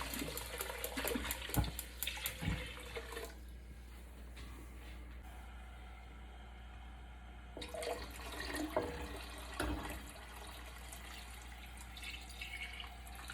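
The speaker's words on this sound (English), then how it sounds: "and then we're gonna add water" Tap water runs into a pot being filled with about a gallon for corned beef brine, a steady rushing stream that stops midway and then resumes.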